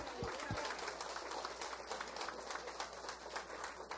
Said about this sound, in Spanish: Denle un aplauso al Rey Jesús.